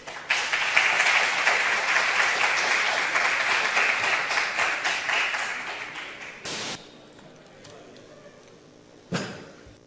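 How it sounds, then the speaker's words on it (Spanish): Lively applause from the audience at a retro video game development awards ceremony, a dense burst of clapping that tapers off around six seconds, followed by a few stray sounds and a last brief clap near the end. "creo que merece un aplauso"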